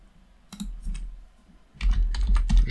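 Computer keys clatter in two quick bursts of typing, close and crisp, with a short pause between them.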